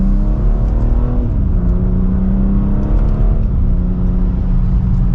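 A 2024 BMW X3 M Competition accelerating hard from second gear, its engine note loud and close, climbing in pitch and dipping briefly at a shift before rising again, with no talk.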